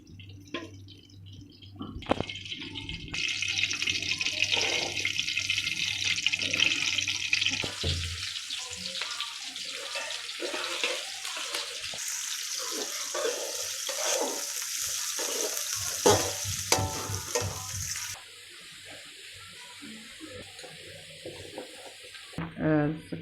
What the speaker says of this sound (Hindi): अब मैं घी डालने लगी।